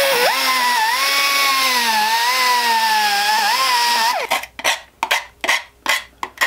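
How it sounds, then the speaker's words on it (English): A Dremel rotary tool whines steadily at high pitch while carving a plastic dollar-store skull, then cuts into short, choppy bursts as it bites into the plastic, loud and close. "so I've dremeled out all the skulls, beat them up a little bit"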